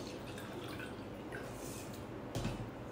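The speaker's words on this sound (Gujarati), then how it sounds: "હવે એમાંથી પાણી આપણે નીતારી લઈશું" Water drips and trickles steadily as washed moong beans are drained, a soft continuous wet patter close by with a slightly louder splash near the end.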